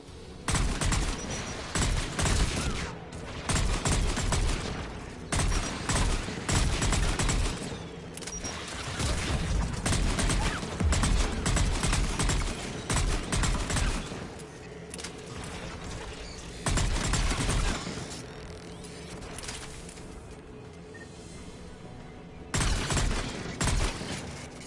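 Anti-aircraft guns guarding a tower in Mass Effect 3 pound out long, loud bursts of rapid fire, broken by short pauses, with a mechanical rattle underneath and no talking.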